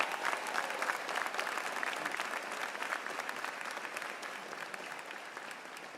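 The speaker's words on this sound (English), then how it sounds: "let's give them a big round of applause" A large crowd of families applauds New York City police academy graduates at their graduation ceremony, a loud and dense roar of clapping that holds steady for several seconds and eases slightly toward the end.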